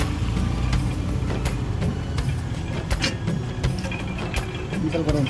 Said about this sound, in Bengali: এটাকে আখ পেড়ানো মেশিন